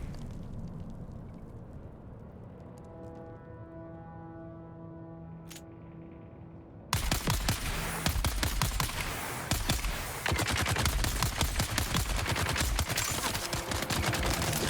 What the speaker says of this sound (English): So let's fire down there. We can blow some of them up. Chuck in some grenades as well.